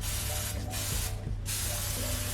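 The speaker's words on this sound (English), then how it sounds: "I am just covering everything with the spray" Tigi hair spray hisses over a tinted wig frontal lace in two close, bright bursts, the second longer, with a quiet room hum between and after them.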